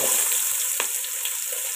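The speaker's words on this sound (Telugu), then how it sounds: "ఇప్పుడు కట్ చేసి పెట్టుకున్న ఆనియన్స్ వేసుకుందాం" Chopped onions frying in ghee for an Andhra-style prawn dum biryani give off a steady, close hiss and crackle that runs unbroken and alone, with no talking.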